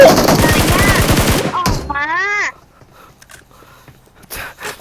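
Rapid automatic gunfire in the PUBG Mobile shooter game, a loud close burst of quick shots that cuts off abruptly, followed by a few faint thuds and one more short burst at the end.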